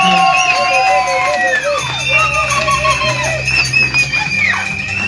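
A wedding congregation in a church erupts in loud, sustained cheering, joyful shouts and high ululating cries that rise and fall over a dense crowd roar throughout.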